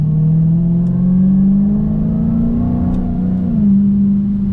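A 2020 Dodge Challenger Hellcat's engine drones loudly and steadily, its pitch rising gently as it accelerates, then easing slightly, with no voices over it.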